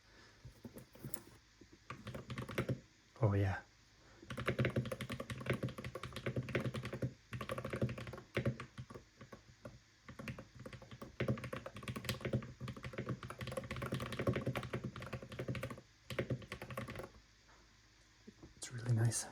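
Typing on a LUMINKEY Magger 68 gaming keyboard with magnetic Hall effect switches, a steady close patter of keystrokes with short pauses, and a voice speaking briefly over it.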